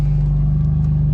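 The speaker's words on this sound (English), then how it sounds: "And so that's the cold start for you guys." BMW M4 engine on a cold start with the cold start delete option removed, a loud steady low droning roar with a pulsing exhaust rumble, close and alone without talk.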